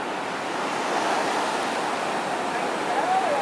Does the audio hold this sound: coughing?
no